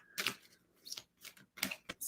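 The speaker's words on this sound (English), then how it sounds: "I'm shuffling some oracle cards now" Oracle cards being shuffled by hand, a run of quick papery riffles and soft clicking snaps in short irregular bursts, close and fairly quiet.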